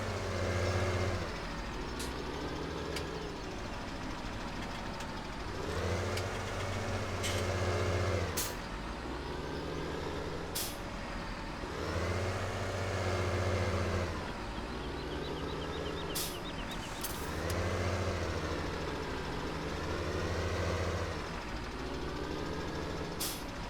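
A harvester engine in Farming Simulator 17 drones steadily in reverse while harvesting corn, its hum swelling and easing in regular waves with occasional sharp clicks on top.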